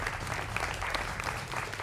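Studio audience at a Hindi television debate show breaks into steady, dense applause that fills the whole moment at moderate level, with no one speaking over it.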